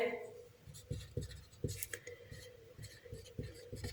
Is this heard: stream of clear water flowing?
no